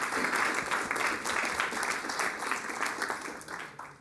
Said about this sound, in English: But understand what you're applauding for, ladies and gentlemen.